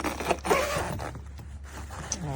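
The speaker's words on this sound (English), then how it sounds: "Zipping in their zippers." A zipper on a lightweight hardside expandable suitcase is pulled in quick short strokes, a close raspy zipping of about two seconds with no talking.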